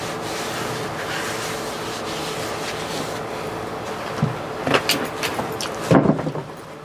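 A homemade drum sander works the inside edge of a round porthole window, giving a steady abrasive whirring rub throughout, with a few louder scraping bursts near the end.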